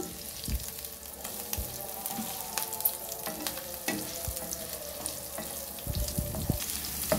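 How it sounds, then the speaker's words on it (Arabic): Hot green peppers stir-fried in a pan give a soft, steady sizzle with scattered clicks and scrapes of a utensil stirring, fairly quiet and free of talk. "بننزل بالفلفل الحامي نشوحوه كده تشويحه"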